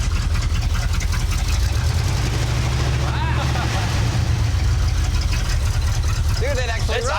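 A rebuilt square-body tow truck's engine with exhaust leaks idles on its own, a loud continuous rumbling drone with rough low-end pulsing, while people talk over it.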